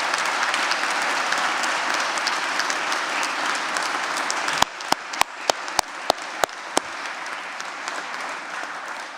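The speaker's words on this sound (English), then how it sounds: "Let's give them all a round of applause." A graduation ceremony audience applauds in a broad, steady wash of clapping that thins abruptly about halfway through, leaving a handful of loud, isolated claps spaced apart before it fades out.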